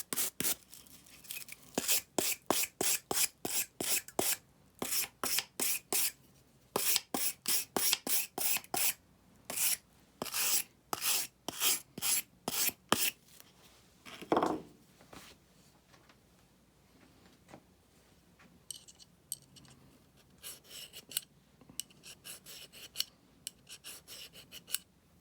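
Steady back-and-forth strokes of a metal file on a Glenfield rifle scope base, close and rhythmic in long runs with brief pauses, then a few scattered scrapes near the end.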